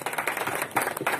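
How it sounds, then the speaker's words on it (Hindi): An audience claps together at a seminar event in India, a brief dense patter of many hands, fairly close and steady. "ये सभी के लिए जितने भी टीएसआईपी सभी के लिए एक जोरदार तालियां।"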